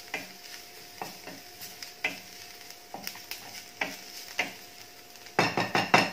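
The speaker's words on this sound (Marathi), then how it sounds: "अगदी कमी आचेवर हे परतून घ्यायचं आहे।" Cumin powder, coriander powder and asafoetida are sautéed on a low flame for seasoned rice: a faint sizzle under sharp spatula taps about once a second, then a quick burst of louder scraping strokes at the end.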